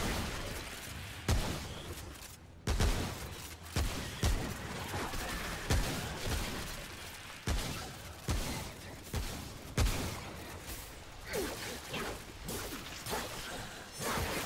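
Weapon fire in the video game Remnant: From the Ashes: a steady series of loud, punchy shots about once a second over a dense, noisy game soundscape.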